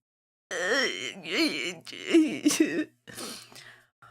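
A woman coughs several times in short voiced bursts, close and fairly loud, with throat-clearing sounds and breathy gaps between coughs.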